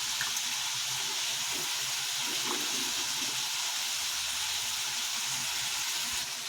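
Fresh turkey berries tossed into a hot pan with oil and asafoetida for a kuzhambu, giving a steady close sizzle and hissing fry that holds evenly throughout.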